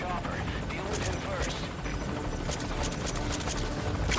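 A helicopter in Metal Gear Solid V: Ground Zeroes gives a dense, steady rotor roar, broken by sharp crackling impacts and scattered gunfire, with faint talk underneath.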